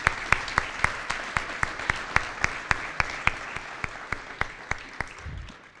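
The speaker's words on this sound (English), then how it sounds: "they deserve a big round of applause" Applause at a business graduation ceremony, heard as a steady rhythmic beat of sharp claps, nearly regular and fairly close, over a soft bed of scattered clapping before fading.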